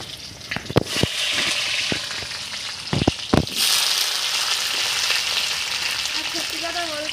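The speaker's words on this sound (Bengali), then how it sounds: "এবার আমি কচু ভাজার জন্য তেল দিয়ে দিলাম, কচুটা ভালো করে ভেজে নেব।" Pieces of taro (kochu) fry in hot oil with a continuous bubbling sizzle that swells louder midway, punctuated by several sharp clatters of a utensil against the pan near the start.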